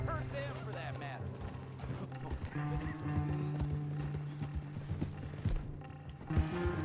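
Horse hooves clip-clop in Red Dead Redemption 2 on a ranch, a steady trotting rhythm close by. A neigh sounds, some mechanical clatter like a wagon comes through, and voices from the game talk over it.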